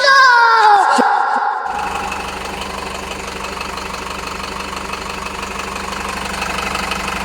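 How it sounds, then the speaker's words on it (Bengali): A vehicle engine runs after a refit, starting with a rising whine and then settling into a steady, even idle with a faint knocking pulse, close and loud throughout. "ইঞ্জিনের আওয়াজটা আমি আপনারা শুনাইতেছি"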